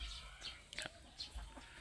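Purebred free-range laying hens and a rooster on a farm let out faint, scattered clucks and short calls, with a few brief squawks standing out against a quiet, low background.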